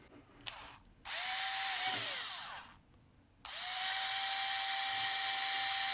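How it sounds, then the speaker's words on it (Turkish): A cordless drill motor, bench-tested with a lithium battery and protection circuit, whirs up to speed with a high whine, stops briefly, then runs again steadily and loudly. "Bu da bir şarjlı matkap motoru."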